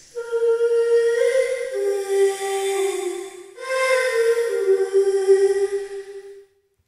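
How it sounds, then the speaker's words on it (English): A single sung voice glides between pitches with an artificial, synthesizer-like AutoTune quality, bathed in long LX480 reverb, in two sustained phrases. "you get this almost synthesizer effect over the voice"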